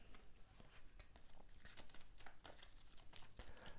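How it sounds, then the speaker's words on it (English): Playing cards from the Delenda Roma board game being shuffled, a steady run of soft crinkling riffles and flicks, close and fairly quiet, with no talk. "All I need to do is to shuffle my cards"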